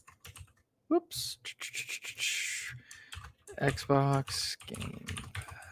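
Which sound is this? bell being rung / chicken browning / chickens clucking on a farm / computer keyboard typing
computer keyboard typing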